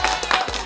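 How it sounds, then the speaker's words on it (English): An audience claps for Ritchie at a black-and-white photography Q&A, a short burst of close, dense clapping. "please can you give a big round of applause to Ritchie"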